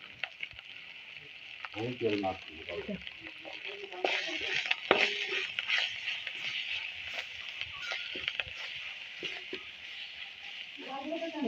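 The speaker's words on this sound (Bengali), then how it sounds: "মশলাটা আমি কষিয়ে নিয়েছি" Spice masala of chili, turmeric and cumin powder sautéing in a pan for prawn malai curry, a bright continuous sizzle with scraping stir strokes and a couple of brief voice-like sounds.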